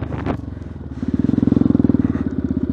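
A Yamaha WR125X single-cylinder motorcycle engine pulses in a fast, even rhythm as it is revved on a cold, foggy day, loud and close, after a brief burst of wind noise.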